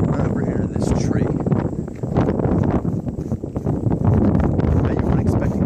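Gusty wind buffets the microphone outdoors, a loud, continuous low rumble that swells and dips, with a voice speaking over it.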